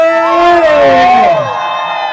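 Wedding guests at a Chonyi celebration raise loud, high trilling ululations together as a crowd, with shouts and cheers mixed in.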